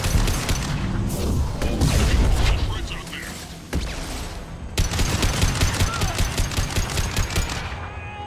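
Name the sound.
impact shot fired and gas tank exploding, Mass Effect 2 video game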